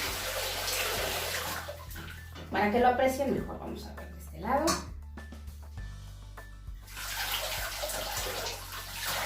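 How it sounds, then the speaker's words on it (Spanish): Horsetail infusion poured into a bathtub for a therapeutic bath, a splashing, running-water wash that fades as someone talks over it, then returns as a steady pour near the end. "vamos a colocar el agua de cola de caballo, bueno, la infusión o decocción de cola de caballo"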